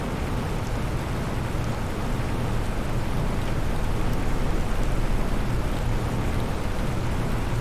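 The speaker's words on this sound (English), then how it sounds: "And enjoy the pretty rain showers." Steady rain showers in the survival game Planet Crafter, a continuous even hiss of falling water with no breaks and no voices.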